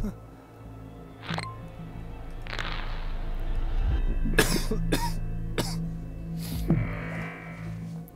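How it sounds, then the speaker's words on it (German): A person coughs several times in quick, harsh bursts during a German-language game commentary, close to the microphone, with some throat clearing and steady background hum. "Husten FTW."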